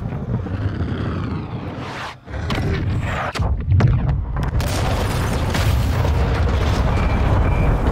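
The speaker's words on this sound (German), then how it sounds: "Achtung, gleich knallt es! Rakete abgefeuert!" A missile strike explodes in the Call of Duty Modern Warfare campaign: a deep, loud boom erupts and gives way to a sustained roaring rumble and crackling debris that carries on to the end.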